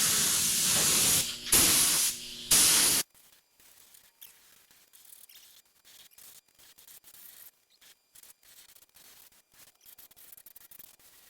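A 1967 Camaro RS SS gets spray-painted in satin hot rod black, loud continuous spray-gun hissing in several bursts for about three seconds, then quiet handling noises and soft rubbing.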